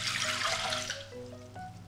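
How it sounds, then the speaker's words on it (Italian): Water pouring into a Thermomix TM5 bowl for wholemeal bread roll dough, a short splashing trickle over a faint machine hum that eases off toward the end. "Nel boccale metto l'acqua"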